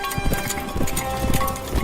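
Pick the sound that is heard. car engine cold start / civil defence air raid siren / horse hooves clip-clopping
horse hooves clip-clopping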